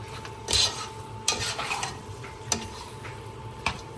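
Spoon stirring a rabbit roast in a pan, with repeated scraping strokes and clinks against the metal at irregular intervals over a soft background sizzle, close and fairly loud.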